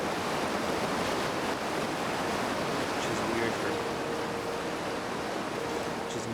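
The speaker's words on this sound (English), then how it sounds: "That's some laminar flow type waterfall." A loud, smooth waterfall in the Outer Wilds video game roars as a steady, dense wash of water that fills the whole clip, with a faint tonal hum partway through.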